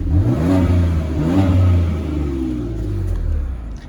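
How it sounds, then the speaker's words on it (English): A 2019 BMW M4 sports car engine revs hard several times, its deep roar climbing and falling in quick bursts before settling into a loud idle. "we can also open this up so you can hear it rev"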